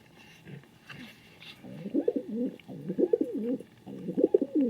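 A king pigeon coos in a repeated series of low, throaty, rolling calls, three or four close bursts in a steady rhythm, loud and near after a quieter start with light background noise and faint voices.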